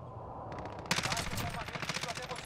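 A short burst of rapid gunfire in Call of Duty: Warzone erupts suddenly and continues loudly over a low background rumble.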